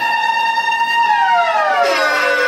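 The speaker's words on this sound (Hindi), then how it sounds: "ये सायरन है" A siren sample played on a DJ controller wails with strong harmonics, holding steady and then sliding downward in pitch, loud and alone with no talking.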